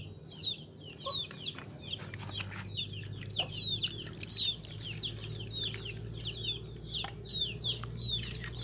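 Chickens clucking in a rural Lao or Thai farm setting, repeated short bright calls from several birds in a steady scattered rhythm over a low constant background hum, fairly faint and with no talk.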